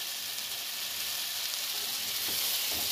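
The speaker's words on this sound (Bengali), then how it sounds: "তাই আমি ভালো করে নাড়াচাড়া করবো।" Mutton and pointed gourd fry with bay leaves in a pan and sizzle steadily up close. Soft scraping of stirring sounds now and then, and there is no talk.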